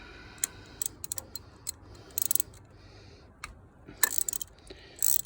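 A ratchet with a Torx 30 socket loosens coil pack screws on a Volvo C70 2.4T, giving short, quiet bursts of fine mechanical clicking separated by pauses.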